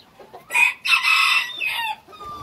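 A rooster crows loudly nearby in a long, ringing call, with softer hen clucks around it.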